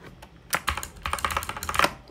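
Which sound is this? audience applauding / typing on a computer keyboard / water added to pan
typing on a computer keyboard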